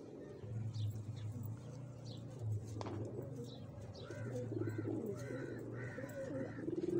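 Several domestic pigeons coo repeatedly in a loft where pigeons gather, soft rolling calls recurring through the stretch over a steady low ambient hum, with a few faint chirps mixed in.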